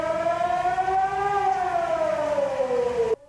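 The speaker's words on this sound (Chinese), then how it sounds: "政府在9:21发布全国性地震模拟演习警讯" A civil defense siren sounds for a nationwide earthquake drill alert in Taiwan, a loud steady wail with a slowly rising then falling pitch that runs about three seconds and cuts off abruptly.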